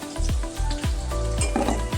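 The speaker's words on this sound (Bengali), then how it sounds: "লাল লাল করে আলু ভাজা হয়ে গেছে," Potato pieces with salt and turmeric sizzle and crackle in hot oil in a pan, a steady close frying hiss broken by repeated stirring scrapes and low clunks of the utensil against the pan.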